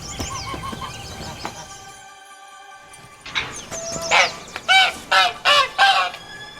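A farmyard goose honks in The Witcher 3 game world. After a quiet stretch, a run of five or six loud, close, nasal honks comes in quick succession.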